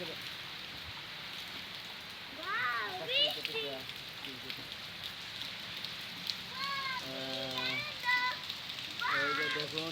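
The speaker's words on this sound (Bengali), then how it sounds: "এই যে স্বস্তির বৃষ্টি হচ্ছে ঢাকা উত্তরায়" Steady rain falls in Dhaka's Uttara during a Kalbaishakhi storm, a constant close hiss with scattered drops beneath intermittent voices.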